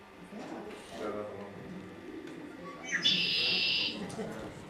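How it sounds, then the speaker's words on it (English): Red-winged blackbird singing once, a single buzzy, trilling phrase standing out near the middle against a quiet, murmuring background of voices. "this is the red-winged blackbird"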